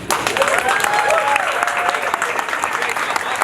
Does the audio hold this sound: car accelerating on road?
no